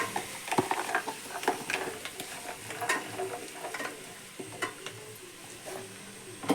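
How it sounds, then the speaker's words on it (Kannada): Onion and avarekalu beans sizzle in hot oil for a tempering, close up, with a steady crackle and frequent scraping stirs and light ticks from the pan, no voices. "ಒಗ್ಗರಣೆಗೆ ಈರುಳ್ಳಿ ಮತ್ತು ಕಾಳು ಹಾಕ್ಕೊಂಡು ಒಗ್ಗರಣೆ ಮಾಡ್ಕೋಬೇಕು"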